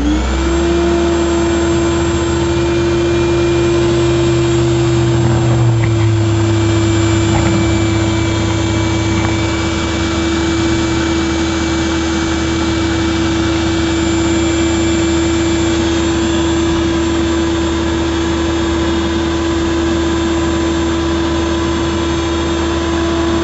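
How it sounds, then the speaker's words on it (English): A vacuum cleaner pulling mule tape through a conduit raceway runs continuously with a steady, loud motor whine and hum, its pitch briefly shifting near the start, no voices heard. "this is where I'm going to impose the noise of the vacuum."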